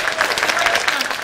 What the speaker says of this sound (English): So another round of applause for these kids.